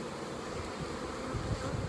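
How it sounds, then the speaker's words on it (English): Agitated honeybees from a freshly removed colony buzz inside a hive box, a dense, steady, close drone with no pauses. "These bees, they're still a little ticked off from getting removed the other day."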